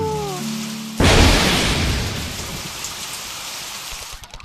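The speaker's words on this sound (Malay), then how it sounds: "tunggulah hujan berhenti" Heavy rain suddenly starts pouring, a dense, loud steady hiss of drops beating on surfaces that continues throughout, with a faint low rumble beneath, alone without talk.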